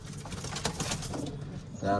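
Pigeons coo in a loft, a low soft rolling call heard close and mixed with indistinct talking.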